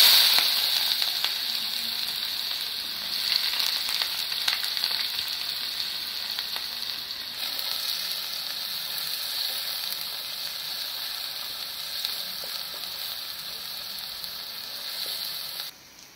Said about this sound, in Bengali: এবার এই পেঁয়াজটা দিয়ে দিচ্ছি।